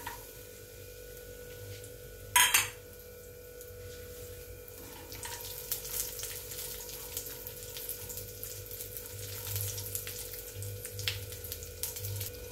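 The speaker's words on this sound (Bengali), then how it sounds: "কাজু, কিশমিশ, পেস্তা। এটাকে আমি ভাজা করে নিলাম।" Cashews, raisins and pistachios fry in ghee with a faint, continuous bubbling sizzle, broken once by a brief louder clatter near the start.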